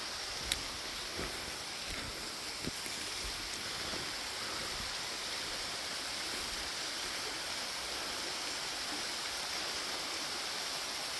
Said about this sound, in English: Nice big waterfall here